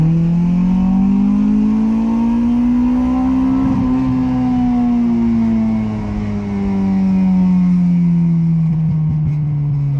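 A Honda Civic EK with an H22 engine swap drones loudly under hard acceleration, revs rising and then sagging as the engine surges and hits a wall, one continuous close engine note.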